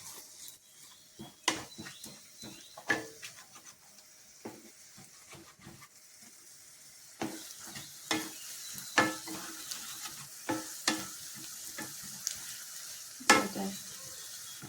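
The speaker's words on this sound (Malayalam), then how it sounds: "എന്നിട്ട് നന്നായിട്ടൊന്ന് ഫ്രൈ ചെയ്തെടുക്കണം" Egg rice frying with biryani masala in a pan, with repeated scraping stir strokes and a steady low sizzle, close and moderately loud, with no voices.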